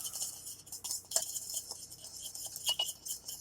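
A spoon stirring a small bowl of seasoning rub with turmeric, giving light irregular clinks and scrapes against the bowl, close and quiet.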